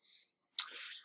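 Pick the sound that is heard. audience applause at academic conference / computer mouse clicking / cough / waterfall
computer mouse clicking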